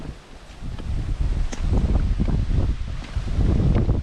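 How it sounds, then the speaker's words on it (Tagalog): Steady gusting wind buffets the microphone outdoors, a broad low rumble rising and falling across the whole stretch with rustling texture, no speech over it. "hangin yan"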